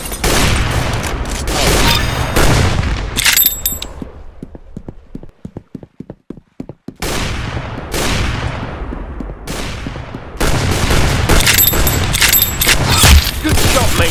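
Gunfire in the Roblox shooter Arsenal, rapid bursts of shots and sharp impacts over game sounds, broken by a quieter stretch of spaced single clicks before the shooting resumes loudly.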